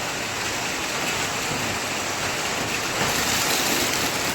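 Steady rain falls at a temple, a dense, even hiss of drops on surfaces that continues without a break throughout, loud and close, with no voices.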